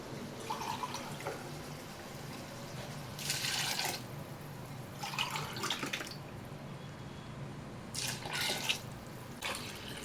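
Water goes into a cooking pot for mutton biryani in three separate pours of a measured tumbler each, each a short splashing gush. Between pours a quiet background hiss and drips continue.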